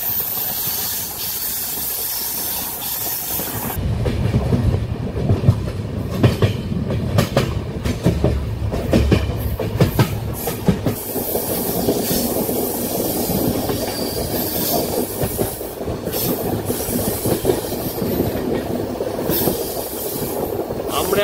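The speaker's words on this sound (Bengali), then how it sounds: "ওই আমাদের সামনে ট্রেন যাচ্ছে আর আমরা এগিয়ে চলছি।" Kanchan Kanya Express passenger train running on rails, a steady loud rumble and hiss with rhythmic clickety-clack building after a quiet start and continuing throughout, close and sustained.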